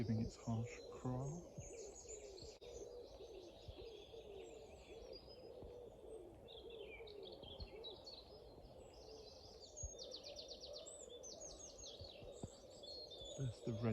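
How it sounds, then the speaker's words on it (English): A wren sings within a dawn chorus, its rapid high trills standing out in bursts over a busy background of other birds calling and cooing. "There's the Wren song just then."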